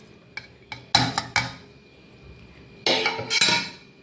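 Coconut dropped into a mixer grinder jar while making beetroot pachadi, a few sharp clinks followed by two quick bursts of rattling, clattering pieces hitting the jar, separated by a short quiet gap.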